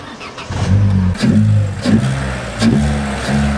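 A Vauxhall Corsa engine fitted with an aftermarket air filter revs loudly in repeated bursts, each throaty rise falling back before the next, with a deep intake growl close by.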